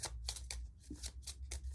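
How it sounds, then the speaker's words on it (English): A deck of cards being shuffled by hand for the Mistborn deckbuilding board game, a quiet close riffle of rapid flicking bursts repeating in a quick rhythm. "Shuffle up our"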